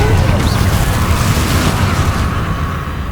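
A Confringo blast spell bursts in PS5 Hogwarts Legacy combat, one booming explosion rumbling and decaying amid dense spell-battle noise across the whole moment.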